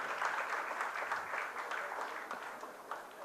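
Audience clapping at a Hindi book launch for "Sapnon ki Pagdandiyan", a steady wash of many hands filling the room without a break, moderately loud and with no voices over it.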